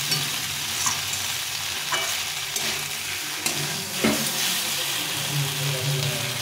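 Cauliflower and other vegetables sizzle steadily in a pan for curry while being stirred, a close, continuous frying hiss broken by occasional scraping clicks of a utensil.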